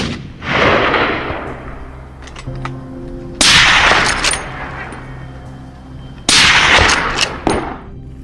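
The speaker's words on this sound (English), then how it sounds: "A thunderous blast tore through the air." Three loud rifle shots boom outdoors at a hog hunt, spaced about three seconds apart, each with a sharp crack followed by a long rolling echo that fades away.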